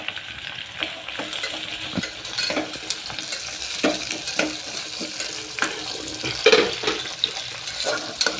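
Potato pieces frying in a pan for veg pulao, a low steady sizzle with repeated scraping and stirring knocks of a spatula, close and moderately loud.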